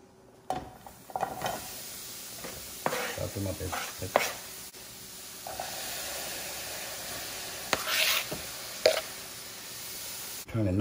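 Food sizzles and clatters in a pan as it is stirred, with scraping bursts over steady frying hiss and a voice speaking briefly.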